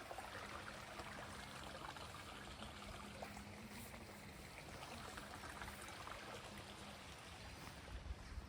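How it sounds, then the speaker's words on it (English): Water from a mill stream outflow feeding fish ponds at a fish farm runs in a steady, faint trickling rush, continuous throughout with no voices. "this is just the outflow from that mill stream, which now feeds the sort of fish ponds and things."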